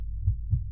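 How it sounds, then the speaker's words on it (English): A heartbeat sound effect in a Poe-inspired animated short: two soft, low thumps in quick succession, muffled and close, with no talk. "That sound, it was a heartbeat, his heartbeat."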